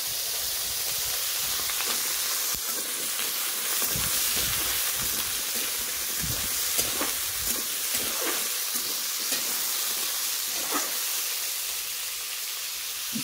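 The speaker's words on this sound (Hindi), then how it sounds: "इधर आलू को डालती हूँ, आलू थोड़ा बहुत भुंजा जाएगा तो साग इधर पका जाएगा।" Potatoes fry with greens in a pan over a wood-fired clay stove, giving a steady, close hiss and sizzle broken by occasional stirring scrapes, with no talking.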